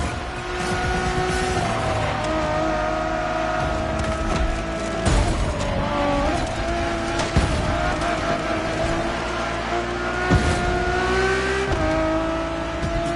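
Ferrari Enzo supercar engine revving steadily and loudly, a continuous near whine with rising and falling pitch across the whole stretch, with a few sharp bursts along the way.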